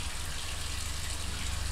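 Water poured into a bottle while mixing Cinestill Df96 monobath for black-and-white film development, a brief, steady gushing splash at moderate level, close and continuous for under two seconds.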